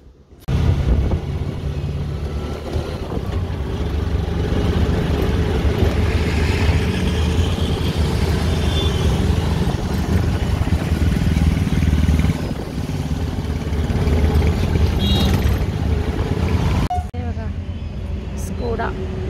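An auto rickshaw ride carries a steady, loud drone of small engine and road rumble with wind buffeting throughout, while people talk over it.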